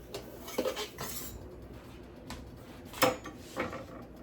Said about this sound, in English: Let's get over here and grab a spatula.